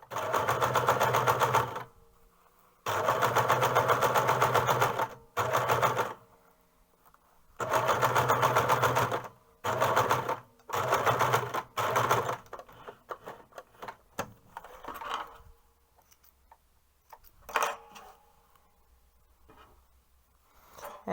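A sewing machine stitches along the turned edge of fabric for a single-layer hood in loud bursts of rapid stitching separated by pauses, then gives way to quieter scattered handling clicks and rustles.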